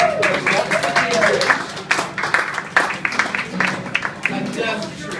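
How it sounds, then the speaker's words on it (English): A crowd claps and cheers for a couple celebrating their first anniversary, a burst of applause with scattered whoops that rises and falls, while a voice talks over it at the start. "So can we give them a round of applause?"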